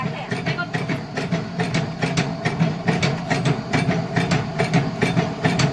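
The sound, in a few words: motor running batasa sugar candy machine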